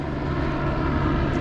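A helicopter flies over the Los Angeles skyline near City Hall, giving a steady, continuous rotor and engine drone with no talking.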